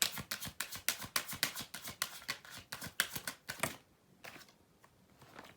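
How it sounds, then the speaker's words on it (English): Tarot cards are pulled from a deck during a reading in a rapid run of crisp, close flicking snaps for several seconds, then a few slower separate taps as the motion eases off, with no speech. "Let me pull more cards out first."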